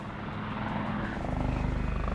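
Helicopter flying, a loud, close, steady rotor thump and engine drone that grows a little heavier and more rhythmic toward the end, with no talk.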